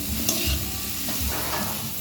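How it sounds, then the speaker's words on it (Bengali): Gourd frying in oil with turmeric and sugar, stirred in the pan: soft scraping strokes over a continuous close sizzle. "ভালো করে নেড়ে দিতে হবে।"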